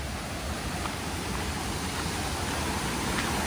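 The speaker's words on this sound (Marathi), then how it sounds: "बघा, ब्रिज आहे आणि त्याच्या बाजूला इथे हा धबधबा आहे" Somtirth waterfall near Nivendi village, close to Malgund and Ganpatipule, pours down right beside a roadside bridge and stream. It makes a steady, dense roar of falling water that stays even and unbroken throughout, with no voices.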